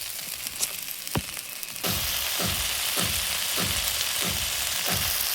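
Chilli frying in a pan, a steady broadband sizzle that jumps louder after a couple of seconds, with regular stirring scrapes cutting through the crackle.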